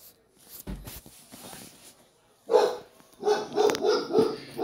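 A dog barks in a quick run of loud, close yips and woofs after a quieter stretch with a few faint knocks.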